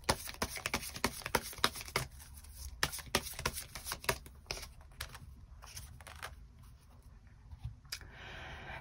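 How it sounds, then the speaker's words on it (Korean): Tarot cards being shuffled and drawn at close range: a run of crisp, rapid riffling flicks and snaps that ease into softer slides and taps as cards are laid out, with no talking. "추가 카드로 이번 5월에 나에게 필요한 조언의 카드 몇 장 더 뽑아보도록 하겠습니다"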